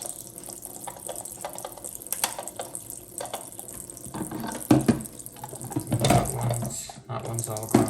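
Running tap water rinses the detergent dispenser parts of a Miele W1 washing machine in a sink, splashing and trickling unevenly with small knocks of plastic parts, growing louder toward the end.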